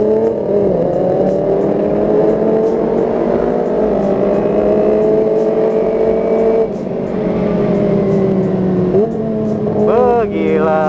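A Kawasaki ZX25R motorcycle engine revs steadily and loudly close by, its pitch rising and falling in long sweeps with a brief dip near the end, no talk over it.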